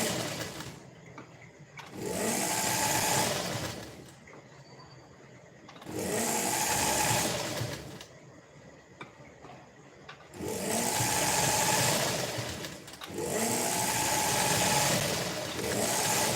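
Electric sewing machine stitching lace onto a soft blouse fabric, running in loud steady bursts of a few seconds each, separated by quieter pauses where the motor stops, close to the microphone with no talking.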